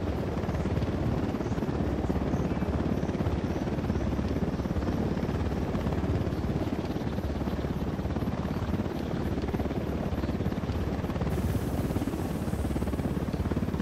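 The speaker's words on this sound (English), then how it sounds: "Chopper's approaching." In the video game Ghost Recon Wildlands, an approaching helicopter's rotor drones loudly and steadily, a low thudding whir that continues without a break.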